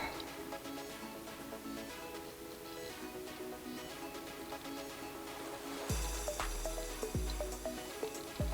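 Resin pours into coaster molds as a thin, steady liquid stream. A few soft knocks and clunks come near the end.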